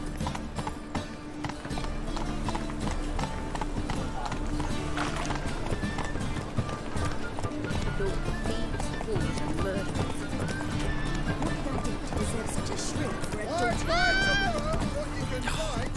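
Horse hooves clip-clop at a steady gallop in The Witcher 3 game, continuous and prominent over a dense game soundtrack, with a neigh rising late and some speech mixed in.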